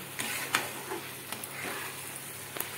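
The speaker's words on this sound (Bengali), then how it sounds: "এবারে কাজুটা দিয়ে মিডিয়াম টু হাই ফ্লেমে রেখে 1-2 মিনিট আমি এটাকে কষিয়ে নেব।" Cashew paste for chicken makhni frying over a medium-high flame, a soft steady sizzle broken by a few short stirring scrapes, close by with no voices.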